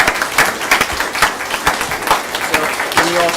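Applause breaks out in a city council chamber, a crowd clapping in sharp, scattered bursts for about three seconds, with a voice rising briefly near the end.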